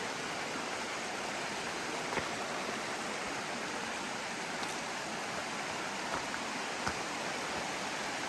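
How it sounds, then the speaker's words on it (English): River rushing over rocks right beside a hiking trail on the Appalachian Trail near the Connecticut–Massachusetts line, a steady, soft broadband wash of flowing water with a few faint clicks and no voices. "The trail just runs right beside this river."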